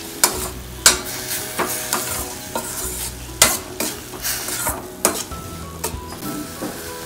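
Steady sizzle of vegetables frying in a pan, with repeated scraping stirs and clinks from a utensil, close up and fairly loud.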